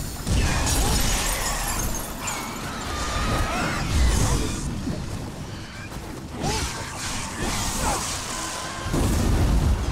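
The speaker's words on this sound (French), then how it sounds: "Explosion." Explosions and crashing debris from the action game Wo Long: Fallen Dynasty fill a dense, loud stretch of combat noise, with booming bursts, shattering clatter and rumbling impacts rising and falling over ten seconds.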